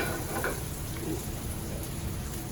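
Gnocchi sautéing in a pan over medium-high heat, giving off a steady, dense sizzle and crackle that holds at an even level throughout, close and continuous.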